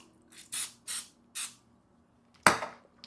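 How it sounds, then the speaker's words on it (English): Cooking spray hisses onto a spatula used to spread a Rice Krispies treat mixture: three short, close bursts in a steady rhythm, then a sharp clatter and a fading scrape. "I'm just going to grease this spatula"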